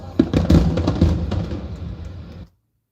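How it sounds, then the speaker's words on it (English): A fireworks sound effect meant to represent bombs bursting in air, placed at the end of an album: a dense cluster of booming bursts and crackles that fades and cuts off abruptly into silence after about two and a half seconds. "those fireworks that are actually supposed to be bombs bursting in"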